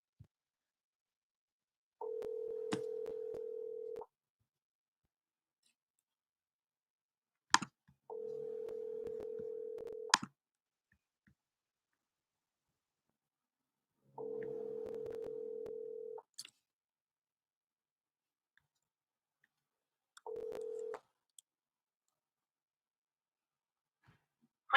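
Outgoing telephone call ringing out, four evenly spaced ringback tones, each about two seconds long, separated by silence and a few faint clicks, clear and alone with no voices.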